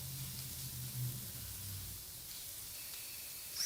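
Chili powder and white pepper pan-frying for soon tofu stew give off a faint, steady hiss that holds evenly for a few seconds, with no voices.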